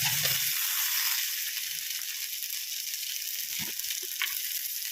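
Chopped tomatoes frying in a spiced masala for a fish curry, a continuous bright hiss and crackle heard close up, with a few soft utensil knocks and clinks against the pan.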